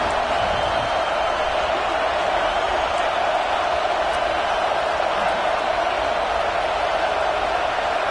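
Steady, dense roar of a stadium crowd in a college football video game during a fourth-down defensive stand, a constant wash of noise with no breaks across the whole stretch.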